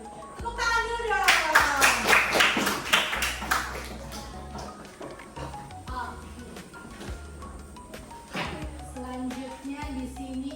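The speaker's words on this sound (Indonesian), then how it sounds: "Oke, tepuk tangan dulu dong." A class of students in a coding and artificial intelligence lesson claps together in quick rhythmic bursts, loud at first and then tapering, with children's voices and a teacher talking around it.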